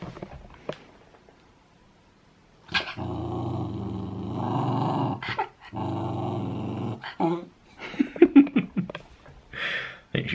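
A pet dog growls in long, drawn-out rumbling stretches mixed with yips and huffing breaths, close and fairly loud indoors, broken by short pauses and ending in choppy vocal bursts.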